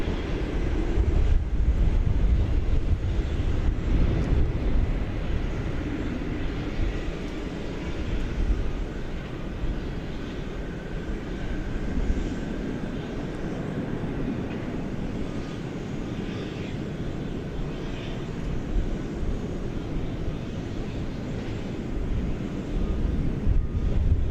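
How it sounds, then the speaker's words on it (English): A Boeing 757 airliner on its takeoff roll at DFW Airport, a powerful sustained jet engine roar, loudest early then slowly easing, heard from a distance with some wind buffeting on the microphone. "in the case that a 757 will give us a thrilling liftoff"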